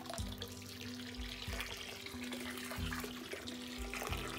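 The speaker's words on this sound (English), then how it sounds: "Hot water to this pool." Hot water pours into a pool in a continuous splashing rush with a low, faintly rhythmic churn underneath, held steady and fairly close.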